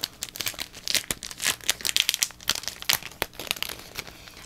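A sheet of craft stickers crinkles and rustles as it is handled, with irregular crisp crackles and small tearing sounds, close and fairly quiet.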